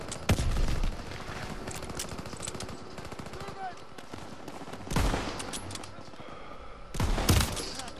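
Rapid automatic gunfire and scattered shots in the World War II shooter Call of Duty WWII, loud bursts recurring against a busy battlefield background.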